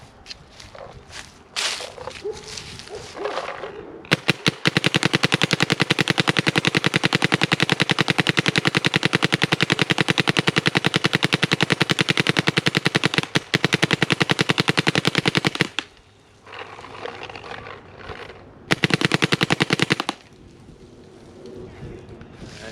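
A Planet Eclipse Ego10 paintball marker fires in ramping mode, letting out a long, loud, rapid stream of shots for about ten seconds, then shorter bursts outdoors, with a voice talking before and after.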